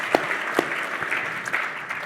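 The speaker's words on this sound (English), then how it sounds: "Give David a big round of applause." An audience applauds a guest named David during a 2014 Al Pacino interview, a short burst of clapping from a modest crowd, fairly close and fading within two seconds.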